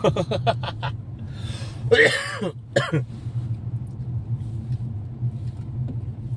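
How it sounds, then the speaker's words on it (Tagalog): A car in slow road traffic gives a low, constant rumble from inside the cabin while someone coughs, clears their throat and chuckles close by. "Nasa traffic pa rin kami hanggang ngayon."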